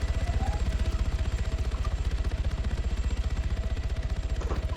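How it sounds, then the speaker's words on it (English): Helicopter landing in a video game, a steady, fast rotor thump with an even pulsing beat and a mechanical whine, continuous and moderately loud with no voices. "I'm just tabbing out of game so I don't have to listen to the chopper."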